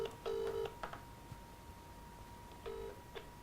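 Touch-tone telephone keypad dialing: a few clear steady tone bursts, two close together near the start, a brief blip, then another long tone and a short one after a pause, fairly quiet over a faint hum.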